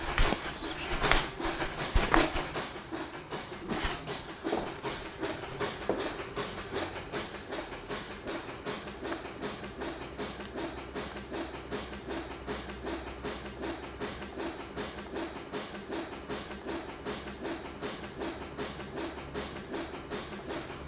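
A 1,650-pound rotary machine turning at 79 RPM gives a steady, rhythmic mechanical clatter with a regular repeating beat and low rumble, louder at first and then settling into an even, continuous run.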